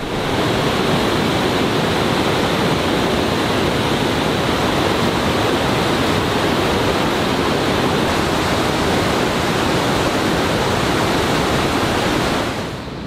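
A waterfall beside a bridge roars as a loud, steady wash of broadband rushing water, unbroken and close for the full length before cutting off at the very end.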